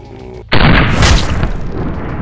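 A single sharp, very loud gunshot from a 9mm handgun firing Speer Gold Dot ammunition cracks close by, then rings out in a long decaying tail.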